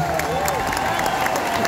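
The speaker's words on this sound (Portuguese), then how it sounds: "Uma salva de palmas para a capa PMP." Dense applause and crowd noise at a concert fill the whole moment, loud and continuous, with voices mixed into the clapping.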